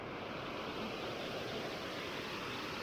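Water pours steadily behind a waterfall in a hiking park, a dense, even roar that holds close and constant with no voices.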